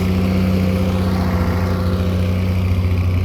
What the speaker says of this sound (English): It's just a good sounding tractor.